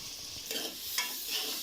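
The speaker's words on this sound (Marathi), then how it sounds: "कांदा आपल्याला छान असा व्यवस्थितपणे परतून घ्यायचा आहे।" Onion frying in a little oil in a pan while being stirred, with a steady sizzle broken by scraping spatula strokes, close and alone without talk.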